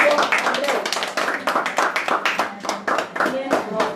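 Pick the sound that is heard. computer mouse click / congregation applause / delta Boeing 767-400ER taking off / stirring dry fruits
congregation applause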